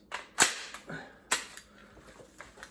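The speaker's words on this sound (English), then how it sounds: "You give it a good whack and it works." A Magpul 30-round magazine struck firmly, giving two sharp, close knocks with a faint metallic rattle trailing after each, heard alone.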